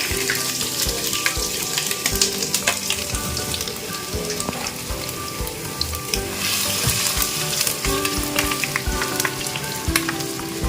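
Ginger sizzling and crackling in hot oil with fenugreek seeds for a Kerala-style fish curry with coconut milk and raw mango, a dense continuous fry close by, with occasional stirring scrapes.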